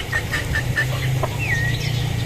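A stag gamefowl rooster in a sweater gives a short burst of clucks and chirps over a steady low hum, close and fairly loud.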